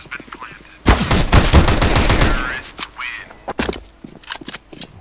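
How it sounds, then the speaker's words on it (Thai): Rapid bursts of gunfire from a rifle in Counter-Strike: Global Offensive, a loud dense volley of shots lasting about two seconds, then a few scattered single shots and clicks over quieter game ambience. "ไม่ค่อยน่าเชื่อว่าปืนนี้จะยิง"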